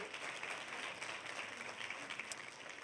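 Steady audience applause in a church, a dense wash of clapping that continues evenly throughout at moderate loudness.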